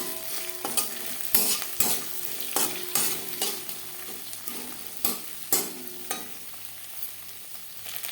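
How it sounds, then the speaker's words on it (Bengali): Curry leaves and green chillies fry in hot oil for a curry pakora, with a close, steady sizzle broken by repeated sharp stirring clanks against the pan, no voices. "কারি পাতা সাবধানে ভাজবেন, তেল ছিটতে পারে"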